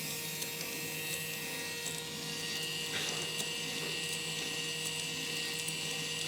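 A Moyustore DM13-1 cutaway model engine runs with a steady mechanical whirr and hum, faint regular ticking layered over an even drone throughout.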